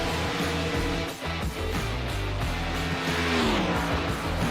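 NASCAR Cup race cars circle the track at Daytona in the iRacing sim, a loud pack of engines droning and shifting pitch together, with one engine note sweeping downward as cars pass close.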